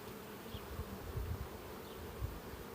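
Carniolan honey bees hum steadily around brood-filled hive frames, a dense close buzz with occasional louder passes as single bees fly near.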